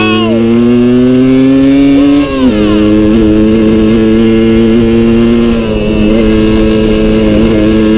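A Suzuki 125 TSR trail motorcycle rides off-road with its rear wheel spinning, the two-stroke engine droning loud and close and its pitch dipping briefly partway through before holding steady.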